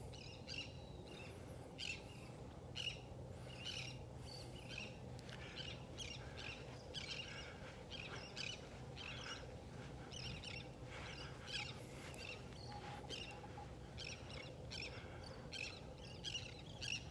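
Terns calling on a beach in North Naples, Florida: faint, scattered high chirps and squawks repeat over a steady wash of surf and wind, with no voices.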